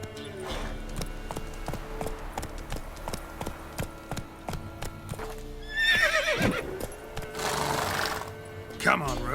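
Roach the horse runs in The Witcher game, with steady rhythmic hoofbeats in a quick gallop and a loud neigh toward the end, while a voice speaks over the clip-clop.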